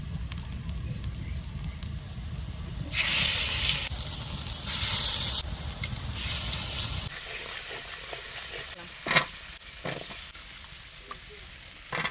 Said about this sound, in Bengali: এই খেসারি ডাল এর লাগে আদা থানথানি পাতা এই দিয়ে মিশাইয়ে বড়া ভাজবো।